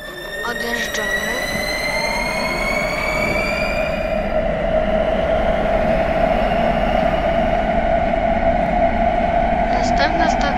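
A Warsaw M2 metro train in Roblox pulls out of a station, with a loud continuous motor whine climbing steadily in pitch over deep rolling rumble, close and unbroken throughout.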